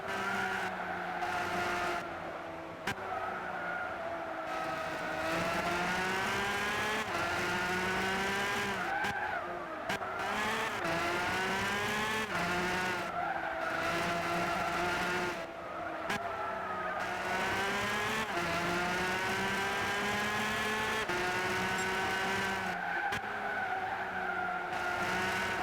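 McLaren race car in the Gran Turismo 6 racing game, a steady loud engine drone with shifting pitch and repeated tire squeals through corners, no talk.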